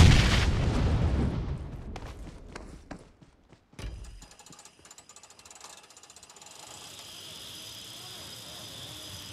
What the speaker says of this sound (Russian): Этот чел, видимо, по тебе стреляет.